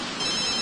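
A telephone rings in The Sims 3, a bright electronic ringtone sounding steadily through the short moment with no voices over it.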